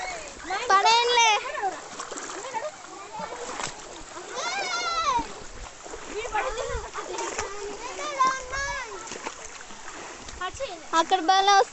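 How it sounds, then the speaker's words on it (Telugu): Water splashing and rushing at a waterfall near Maddelamma Devi temple, heard beneath almost constant chatter from children and adults. "అరే బాగా వస్తున్నాయి వాటర్ ఫాల్స్"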